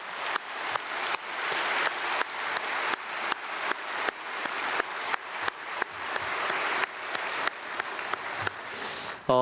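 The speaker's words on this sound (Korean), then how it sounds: "우리 하나님께 영광의 박수 올려드리겠습니다." A church congregation applauds after a Sunday worship service hymn with orchestra, steady broadband clapping with a rhythmic pulse of accents, sustained for several seconds and ending abruptly.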